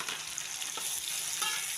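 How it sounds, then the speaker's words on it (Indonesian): Tomatoes are stir-fried in a pan for an eggplant sambal with salted fish, a close continuous sizzle with a couple of soft stirring scrapes. "Sudah harum, masukkan tomatnya."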